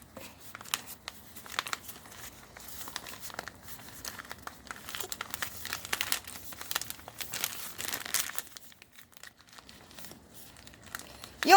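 Paper towel and newspaper are crumpled and rolled up close by while making a large campfire candle, a long run of dense crinkling and crackling that pauses briefly near the end.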